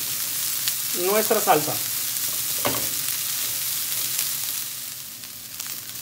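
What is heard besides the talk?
meat browning and sizzling in a pan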